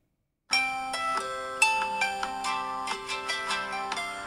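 A phone alarm in the video game Paper Lily rings alone after a short silence, a bright looping melody of bell-like tones that carries on steadily and loud.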